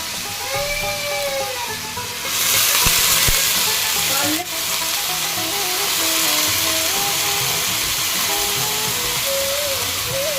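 Potatoes go into hot oil in a wok for chowmein, and a loud, steady sizzle surges up and holds, with faint kitchen noise underneath.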